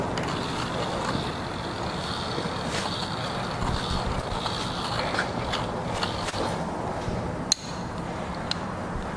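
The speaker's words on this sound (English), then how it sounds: "I'm slowly going to let the cable out while it's under tension." A come-along hand winch on free spool pays out cable under tension, producing a steady run of mechanical clicking and creaking with a sharper metallic click late on.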